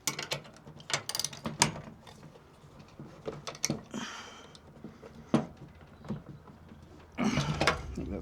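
Wrench tightening half-inch bolts on a Victron Lynx power setup, heard as a series of close ratcheting clicks and metallic taps in irregular bursts, with a few louder clanks toward the end.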